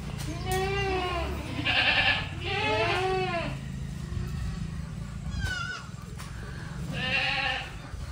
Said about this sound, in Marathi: सर्व शेळ्या वैरण खायची वाट बघत आहेत